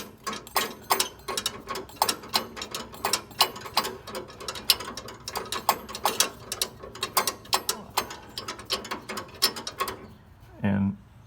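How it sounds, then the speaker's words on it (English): Rapid ratchet clicks come in quick bursts as a part is unscrewed on a 1971 VW Super Beetle during an alternator conversion. The clicking is close and steady for about ten seconds, then ends with a short low thud. "So I'll just go ahead and unscrew this here now."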